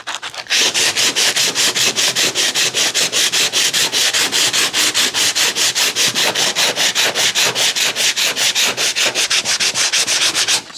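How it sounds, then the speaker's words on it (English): Car body filler on a panel is sanded by hand with 60-grade paper on a sanding block, a loud, close, rhythmic rasping of fast back-and-forth strokes that continues steadily without pause. "we're just going to sand it down, and I'm going to use a 60 grade paper"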